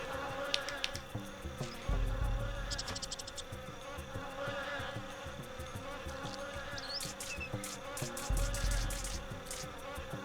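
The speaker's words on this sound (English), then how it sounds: "More bees that we don't know how to defeat." Constant buzzing of bees in the Wii game Man vs. Wild with Bear Grylls, droning steadily over a game background with occasional thumps and high chirps, no talking.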